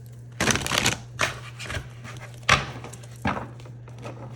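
Oracle cards are shuffled by hand in several distinct bursts of riffling flutter, close and crisp, separated by short pauses over a steady low hum.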